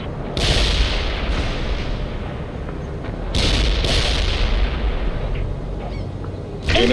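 Heavy gunfire and artillery rumble continuously in the video game World in Conflict, a dense loud roar of shots and booms with sharper blasts surging in at intervals.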